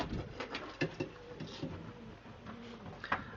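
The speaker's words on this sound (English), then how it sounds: "Steve, I've had some cracking pigeons from Steve" Pigeons coo softly in a loft, a few low, throaty calls mixed with light shuffling and wing patter, all faint and close with no talking.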